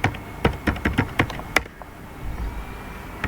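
Fingers type quickly on a computer keyboard, giving close, crisp keystrokes in an uneven burst that stops abruptly and leaves quiet room tone.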